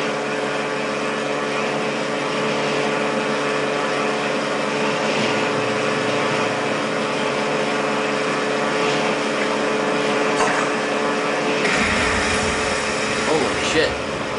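A barge engine from the video game Far Cry 2 drones steadily and loudly on the water, a continuous motorboat-like hum with a faint splash and surge near the end, while a voice talks over it.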